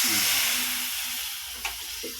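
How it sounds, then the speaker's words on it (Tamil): Water poured into a hot pan hisses and sizzles steadily, a broad bright hiss slowly fading, with a brief clink near the end. "இந்த தண்ணி ஊற்றுறேன்"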